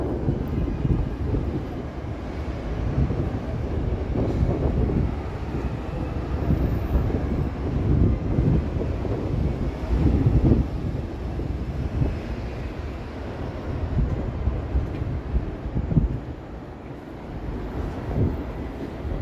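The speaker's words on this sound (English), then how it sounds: "The wind is defeating my gimbal here." Strong wind blows steadily outdoors in downtown Toronto on an evening street, a loud rumbling buffet on the microphone with gusts rising and falling throughout, with no talking.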